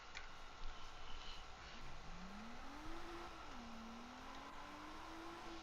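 A stock car is driven in the video game JDM: Rise of the Scorpion, its engine note a faint steady drone that rises in pitch as it accelerates and then holds, heard without talk.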